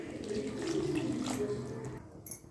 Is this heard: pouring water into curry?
yes